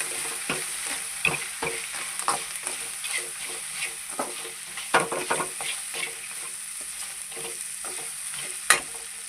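Crab gravy with chilli powder being stirred in a pan, a busy, rhythmic scraping and clatter of the spoon over a continuous close sizzle.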